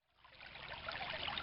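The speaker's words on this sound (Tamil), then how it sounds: "இந்த தண்ணியோட சத்தத்தை மட்டும் கொஞ்சம் நம்ம கேட்டாலே போதுங்க" Woodland stream water flowing and trickling steadily in the hills, rising from near silence to a continuous, moderately close rush with no voices.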